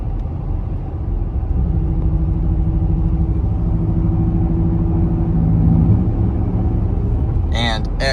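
Ford 5.0 V8 with SPD high-flow cats and a Corsa Extreme exhaust drones loudly at cruise, its low rumble going choppy as cylinder deactivation kicks in, steady and close throughout.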